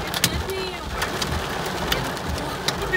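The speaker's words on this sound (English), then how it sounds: "the sound we're hearing is the ice shattering when it hits" Hailstones strike and shatter on hard surfaces during a hailstorm in Athens, giving scattered sharp cracks and taps over a constant patter, fairly close, with no talk heard.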